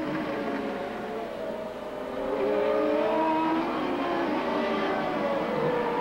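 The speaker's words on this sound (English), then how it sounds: "There's Roberto Guerrero moving into the keyhole section of the race course, trying to overtake Kevin Kogan once again" Several 1987 CART Indy-style race cars roar through the keyhole section at Mid-Ohio, engines droning loudly and steadily with shifting pitch as cars pass and chase each other for position.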